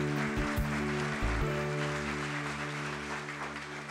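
Continuous applause from a TV show audience with a sustained tonal hum or music underneath, steady throughout.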